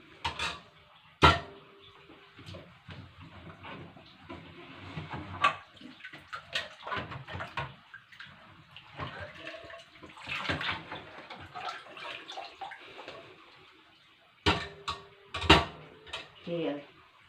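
A plate is washed front and back under a running tap, with a steady close water stream, intermittent splashing and scattered clinks and knocks of dishware. A voice speaks at times over the water.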